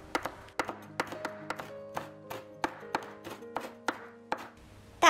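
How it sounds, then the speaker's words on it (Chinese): Small red chili peppers being chopped and minced with a knife on a cutting board: a dozen or so sharp, uneven knocks at close range over soft background music, ending with a brief louder hit. "小米椒切圈，再剁碎。"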